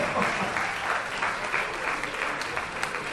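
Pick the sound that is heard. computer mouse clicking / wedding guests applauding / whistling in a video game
wedding guests applauding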